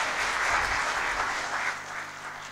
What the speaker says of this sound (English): I'm very impressed with this volume business of the applause